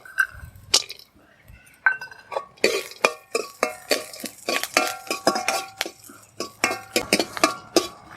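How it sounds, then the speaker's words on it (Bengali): A utensil stirs curry leaves and fried peanuts in a pan, scraping and clinking against the metal in a steady rhythm. The strokes start sparse, then quicken into a repeated pattern of close, clear knocks. "এবারে একটু কারি পাতা দিয়ে দেব ভেজে রাখা বাদাম দিয়ে দেবো"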